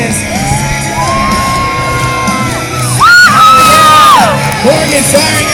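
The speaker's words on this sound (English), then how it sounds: "let's get loud for Morgan Wade coming out of Tyler, Texas." Crowd at a BMX stunt show at the Texas State Fair yelling and cheering, swelling louder midway, with an amplified announcer's voice over the noise.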